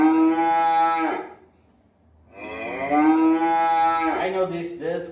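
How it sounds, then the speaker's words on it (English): A cow moos twice, loud and close: two long, drawn-out lows separated by a short pause, the second trailing into a brief voice at the end. "I know this cow."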